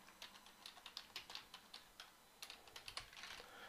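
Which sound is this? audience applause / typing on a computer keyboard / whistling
typing on a computer keyboard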